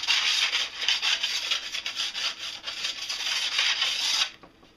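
A deburring stone rubbed back and forth along a snowboard's metal edge during a basic tune gives a close, continuous rasping scrape for about four seconds, then stops abruptly, with no talking.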